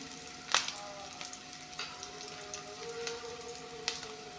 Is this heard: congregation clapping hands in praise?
no